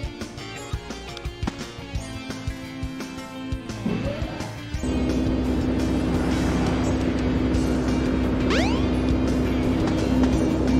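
A car drives in Sonic Adventure DX, its steady engine roar rising and holding loud after a rough stretch of clatter, with music and game effects mixed in.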